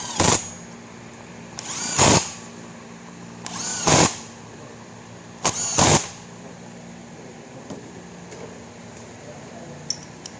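A power tool tightens Allen bolts on a Yamaha YZF-R25 engine during an overhaul, with three short whirring bursts separated by pauses, close and fairly loud, with no talk.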